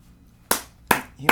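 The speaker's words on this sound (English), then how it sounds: "Humongous round of applause." Three separate hand claps land close and crisp with short pauses between them, spaced slowly against a quiet background rather than forming a full round of applause.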